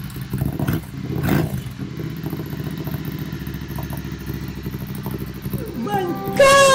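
A 2020 Ducati Scrambler Icon Dark idles at close range through a Termignoni SO01 exhaust with a throbbing, uneven beat. Two short revs flare up early on, and a higher whine rises near the end while voices talk over the engine.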